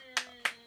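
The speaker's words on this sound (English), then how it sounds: "Clap it up." Two sharp hand claps ring out about a third of a second apart, crisp and close against a quiet studio background.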